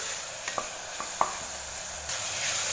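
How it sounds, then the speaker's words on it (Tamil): A spatula scrapes and stirs ginger-garlic and green chilli paste in a pan with a few sharp clicks over a steady sizzling hiss, close by. "விழுது சேர்த்துட்டு இதை நல்லா மிக்ஸ் பண்ணி வதக்கி விட்டுக்கலாம்"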